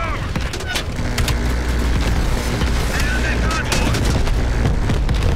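Gunfire in the Call of Duty Black Ops Cold War video game: a dense, steady wash of rapid shots and booming impacts throughout, with some game voices underneath.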